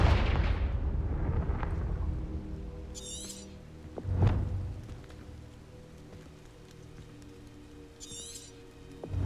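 A fiery blast spell in the fantasy game Hogwarts Legacy bursts with a loud rumbling whoosh that fades, followed by a second sharp boom and rolling crackles, with brief magical chime-like twinkles in between.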